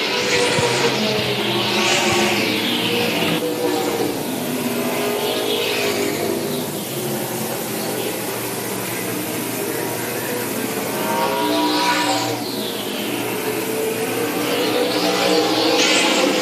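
Race cars at the Tri-County Speedway lap the oval in a Grand National Super Series race, engines rising and falling in repeated whining pass-bys over a steady roar, loud and sustained without a break.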